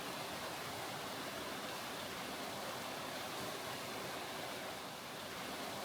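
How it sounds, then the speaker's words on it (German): A mountain stream rushes through a gorge in Vorarlberg, giving a steady, even wash of broadband water noise that stays constant and fairly distant, with no voices. "Bald sehen wir den Bach wieder."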